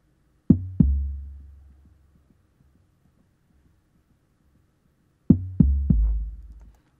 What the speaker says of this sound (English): the 808 sounds like this